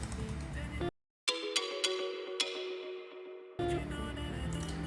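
A dry, bell-like mallet melody plays, then repeats drenched in Magic Dice reverb and delay, with struck notes ringing into long smeared tails before a busy, louder passage returns, alone.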